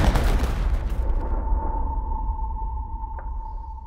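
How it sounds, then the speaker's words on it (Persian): A firing squad volley in a film execution scene: one loud burst of rifle fire at the start, then a long ringing tone and fading reverberation, with no voices. "در اون لحظه دوباره به سربازها فرمان آتش داده شد و باب و همراهش تیرباران شدند"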